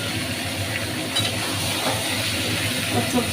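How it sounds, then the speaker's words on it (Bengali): Vegetables with plenty of turmeric are sautéed in a pan for khichuri, giving a steady, moderate frying sizzle with faint stirring scrapes throughout, close by and with no speech. "তো এই মধ্যে সব কিছু আমি ভালোভাবে কষিয়ে দিচ্ছি।"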